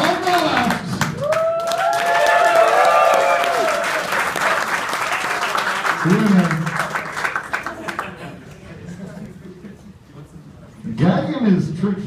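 Audience at a debating event bursting into applause and cheers, loud and sustained for several seconds before fading, with people talking over it and a voice speaking near the end.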